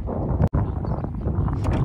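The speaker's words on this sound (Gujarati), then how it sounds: "જોવું તમે પવન જોવું" Strong wind blowing across a tidal creek where waves are being whipped up, roaring steadily and buffeting the microphone with a low, constant rush and one brief dropout.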